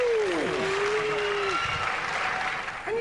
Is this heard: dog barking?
no